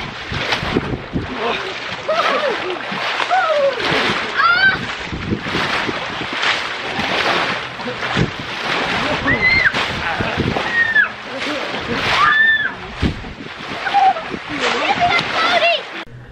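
Water splashing and sloshing as people swim and make waves, continuous and close, with wind buffeting the microphone and voices talking and calling throughout.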